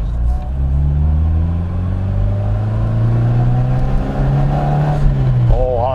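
A 43-year-old Opel Manta B sports car with a 90-horsepower engine accelerates hard, its engine note rising steadily through the revs, close and loud, with a brief gear change near the end.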